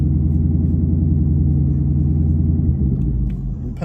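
A manual transmission car rolling backward in reverse with the clutch slipping, a steady loud low engine drone that eases slightly near the end, no voices.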